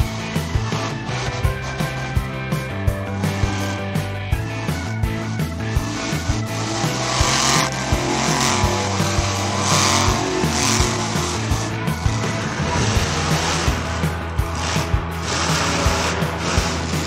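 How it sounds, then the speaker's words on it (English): A green cartoon monster truck with big monster wheels and tires revs its engine and squeals its tires while doing a wheelie, loud and continuous with repeated rhythmic thumps over music-like tones, without speech. "This green monster truck is doing a wheelie."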